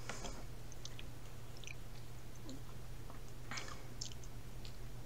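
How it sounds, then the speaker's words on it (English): Quiet, soft chewing of a granola bar close to the mic, scattered crunchy bites and squishy mouth sounds over a steady low hum, with no talking. "I was eating a granola bar"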